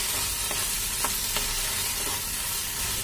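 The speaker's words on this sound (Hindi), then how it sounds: "मिक्स कर देते हैं मसाले में।" Roasted cashews stirred into sizzling masala for a cashew mushroom curry, a steady fry hiss with a few soft spoon scrapes against the pan, close and continuous.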